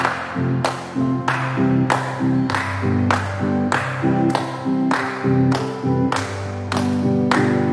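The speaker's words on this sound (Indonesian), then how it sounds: "Yuk, adik-adik semua tepuk tangan ya." Children at a Sunday school service clap along in a steady, even beat, about one sharp clap every half second, over a hymn played with music.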